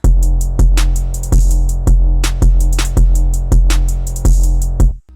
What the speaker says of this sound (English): After that I just added this very simple open hat.